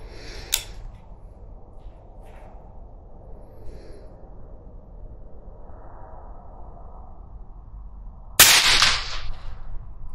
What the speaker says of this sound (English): So here we go, next shot.